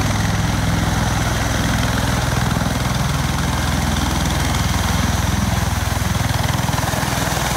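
Bell Boeing MV-22 Osprey tiltrotor engines running at takeoff in Santa Monica, a loud, steady low drone and whine that holds constant throughout.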